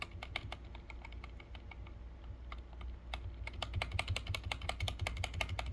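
Keystrokes on a Keychron V6 keyboard fitted with Gamakay Mercury switches and double O-ringed keycaps, a steady run of soft, muted clicks at close range over a low background hum, with no talking.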